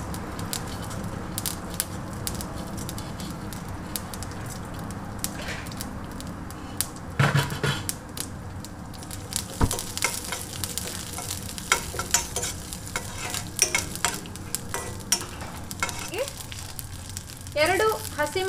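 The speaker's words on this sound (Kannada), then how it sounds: "ಇದೆರಡನ್ನು ಸೇರಿಸಿ ಒಗ್ಗರಣೆ ಮಾಡ್ಕೋತಾ ಇದ್ದೀನಿ" Mustard seeds and urad dal tempering in hot oil make a busy sizzle with sharp pops and crackles that grow denser toward the end, with stirring scrapes throughout.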